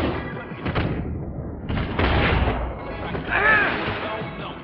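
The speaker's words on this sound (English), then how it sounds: "with all the guns blazing around here" Gunfire in the video game Max Payne 3 rumbles as muffled booms and thuds layered over dense game noise, loud and continuous with no clear single shots.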